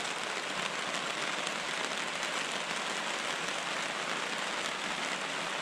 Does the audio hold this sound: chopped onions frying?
no